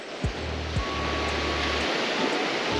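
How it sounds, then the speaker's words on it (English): Ocean surf crashing against the cliffs at La Jolla, California, a loud continuous wash of white noise with low rumbling, heard close along the rocky shoreline. "the waves are a little crazy, but we're not anywhere near them"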